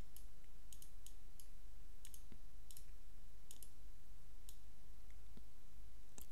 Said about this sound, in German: Und klicke auf Neustart.